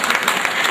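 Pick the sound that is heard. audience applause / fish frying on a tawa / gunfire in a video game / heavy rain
audience applause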